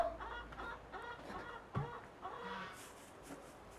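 Hens clucking nearby: soft, repeated clucks and short calls, fairly quiet, with scattered background noise.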